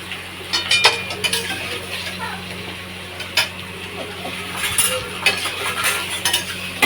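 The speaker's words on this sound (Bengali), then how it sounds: "এভাবে নেড়ে নেবে" A sweet and spicy pickle is stirred in a pan, with irregular scrapes and clinks of a spoon over a low sizzle, close by, and a voice speaking at moments.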